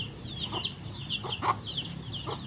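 Free-range village chickens cluck and chatter softly nearby in an outdoor yard, with several short squawks and busy overlapping calls over a low background.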